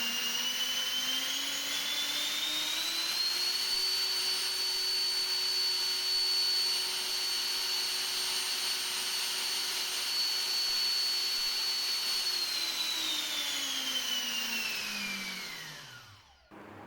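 Variable-nozzle electric ducted fan with a 2500 kv motor running on a 3S battery, a steady loud whining roar that rises in pitch, holds for several seconds, then winds down to stop.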